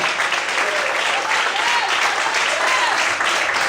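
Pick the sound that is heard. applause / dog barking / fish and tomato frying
applause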